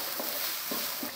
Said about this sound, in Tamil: இப்போ இது 2 சேர்த்து நல்லா வதக்கிடுங்க.